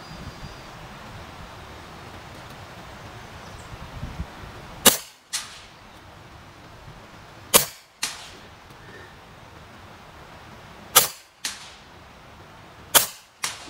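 Four sharp shots from a Huben K1 .25 air rifle at 105 yards, spaced several seconds apart, each a crisp crack over a quiet outdoor background with light wind.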